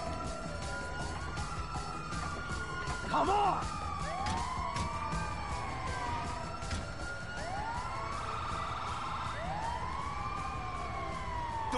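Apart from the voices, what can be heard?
ambulance siren in GTA video game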